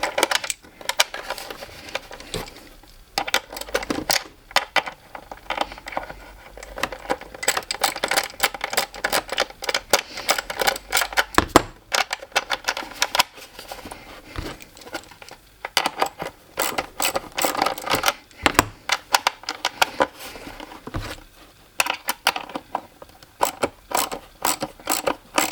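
A 10mm socket wrench ratchets steadily during a car audio install in a Toyota GT86, giving dense, rapid clicking nearby that comes in uneven bursts with short breaks.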